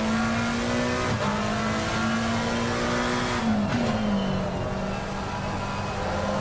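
A Ford Mustang GT3 race car at Zandvoort holds a loud, steady engine drone on track, with brief bumps and jolts as it runs over the kerbs and the pitch dips near the end.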